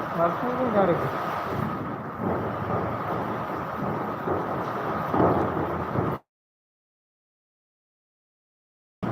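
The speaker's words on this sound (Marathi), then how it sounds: "पाऊस लय जोराने चालू झाला आहे" Heavy rain pours steadily in a thunderstorm with gusty wind, a dense continuous roar for about six seconds that cuts off abruptly into silence.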